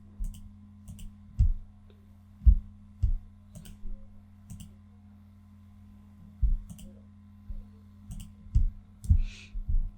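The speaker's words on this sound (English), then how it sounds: "I'm going to do is to click and drag into the shapes" Computer mouse clicking while shapes are dragged into a church flyer layout in Photoshop: a dozen or so sharp, close clicks in irregular pairs and singles over a quiet low hum.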